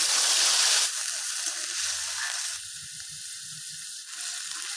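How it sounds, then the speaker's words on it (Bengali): Ground spice paste fries in oil for a Bengali rui fish kalia, giving a close, steady sizzle that eases after the first second and carries soft stirring knocks and scrapes underneath. "তো সেই বাটা মশলাগুলো সবটাই আমি ঢেলে দেবো।"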